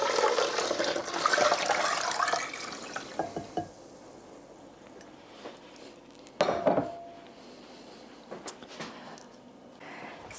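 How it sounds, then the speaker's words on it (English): Coconut milk poured back into a rinsed Vitamix blender jar, a close, gurgling liquid pour at first, then quieter drips and scattered clinks against the container. "I rinsed my Vitamix and I'm just gonna pour it back in."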